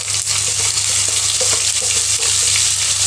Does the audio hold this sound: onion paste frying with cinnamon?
yes